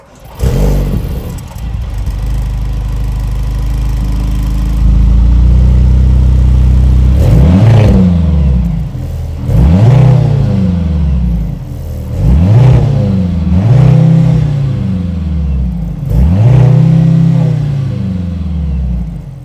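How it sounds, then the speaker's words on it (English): A 2024 Mercedes-Benz C63 AMG's 2-liter turbocharged 4-cylinder engine idles, then revs repeatedly in a steady rhythm, five or six loud rising-and-falling blips, close and powerful with a deep exhaust rumble. "that was the sound of the monster 2-liter turbocharged 4-cylinder engine"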